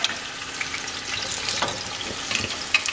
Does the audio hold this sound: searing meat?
yes